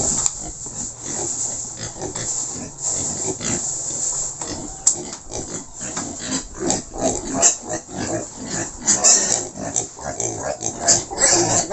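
Two piglets on a small pig farm squeal loudly and repeatedly while being caught, with frantic, overlapping cries and scuffling nearby and little talk.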